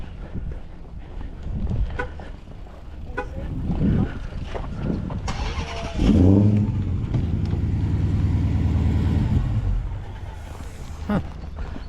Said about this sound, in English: The engine works.